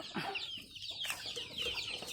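Chickens clucking on a small mixed farm in an open-air enclosure, a steady cluster of close, overlapping clucks and short calls continuing throughout with farmyard background noise.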